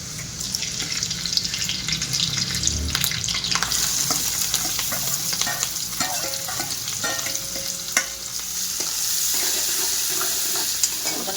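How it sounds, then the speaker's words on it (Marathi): Onion and green chilli frying in a kadhai as they are stirred, giving a steady, loud sizzle with scraping and clinking from the spatula throughout and no talking. "आता कांदा पण छान लाल होऊन द्यायचा आहे, तोपर्यंत परतून घ्यायचा आहे."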